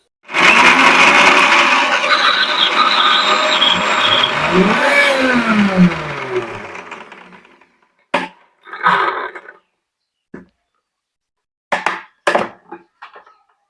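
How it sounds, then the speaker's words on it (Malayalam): A kitchen mixer grinder crushes garlic and coconut for dry chutney, running loud and close for about six seconds with whining, shifting motor pitch, then winding down and giving several short pulsed bursts separated by silence. "വെളുത്തുള്ളി നമുക്ക് കുറച്ച് ഇടാം ഇത് കൂടി കുറച്ച് ക്രഷ് ചെയ്തിട്ട് എടുക്കാം"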